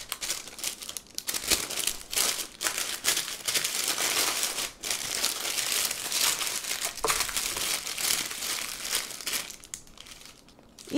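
Seasoned bacon is being wrapped in baking paper by hand, giving close, continuous crinkling and rustling with short pauses and no speech.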